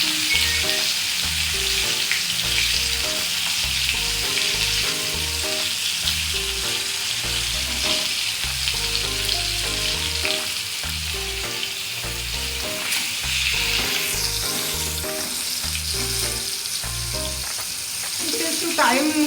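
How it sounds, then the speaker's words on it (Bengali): Chicken pieces coated in flour and cornflour deep frying in white oil in a kadai, a loud, continuous bubbling sizzle lasting throughout, with some stirring clatter near the end. "একটু টাইম নিয়ে ভাজতে হবে, 4 মিনিট মতো ভাজতে হবে।"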